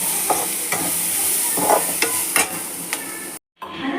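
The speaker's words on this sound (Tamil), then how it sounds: "இதெல்லாம் போட்டு வதக்க வேண்டியதாங்க." Ingredients for paneer butter masala sauté in an oil-filled pan, giving a constant bright sizzle broken by repeated scraping stirs every half second or so, close and loud, with a brief dropout near the end.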